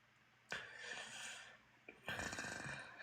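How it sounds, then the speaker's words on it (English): Loud mouth breathing from a man, two heavy rasping breaths with a snoring, snorting quality, close and alone. "No, he just sounds like that. He's mouth breathing."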